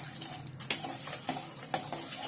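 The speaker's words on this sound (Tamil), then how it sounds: "போட்டுட்டு நல்லா மிக்ஸ் பண்ணிடலாம்." Tomato sauce seasoned with sugar and oregano being stirred with a utensil for a zucchini lasagna, giving close scraping and clinking strokes against the pan at a steady, repeated pace with a faint sizzle beneath.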